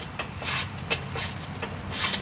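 A 17 mm deep-well socket wrench works the rear suspension nut of an RPS Magician 250 motorcycle, giving a series of close, rasping ratchet bursts and creaks at an uneven pace.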